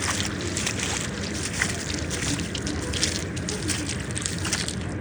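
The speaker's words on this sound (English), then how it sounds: "There's a little waterfall" A small park waterfall gives a steady, broadband rush of falling water, continuous and moderately close, with no voices over it.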